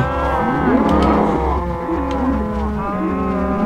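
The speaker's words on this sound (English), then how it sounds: "Alright, cows, if you could kindly..." Cows in a video game moo loudly and close, several overlapping drawn-out bellows one after another over a low game hum.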